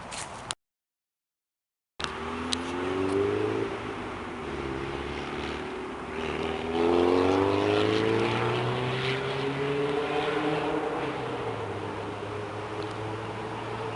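A Meyers Manx dune buggy's engine drones while it drives onto the interstate, a steady mechanical hum with pitch rising as it accelerates, heard from close by after a brief dropout at the start; no talking.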